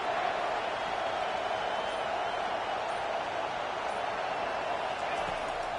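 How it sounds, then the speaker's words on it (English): Steady broadband stadium crowd roar for a defense on third down in a college football video game, a sustained even wash of noise at moderate level throughout with no distinct peaks. "Decibels rising as the crowd gets behind this defense on third down."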